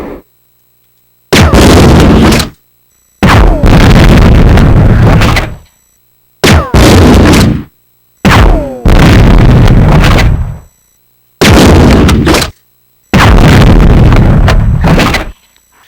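A shotgun in the video game Resident Evil 2 goes off in six loud, heavy blasts. They are spaced a second or two apart, and each booming report trails off before the next.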